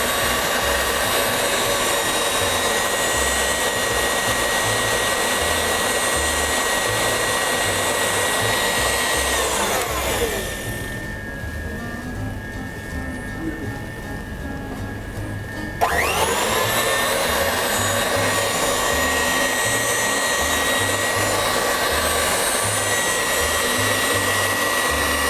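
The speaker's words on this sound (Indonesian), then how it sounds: "kemudian dimixer kembali hingga benar-benar mengembang dan" An electric mixer whips sweet bread (roti manis) batter until fluffy, a loud continuous whirring that drops away to a quieter hum for several seconds midway, then returns at full strength.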